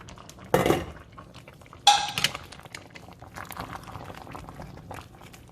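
Tomato soup being stirred in a pot, with two sharp clinks of a utensil against the pot followed by softer scraping and bubbling, close and moderately loud, with no talking.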